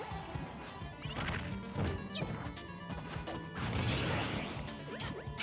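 Final Smash attacks colliding in Super Smash Bros Ultimate: a dense run of crashing, whacking impacts and bursts, loud and busy throughout with no talk.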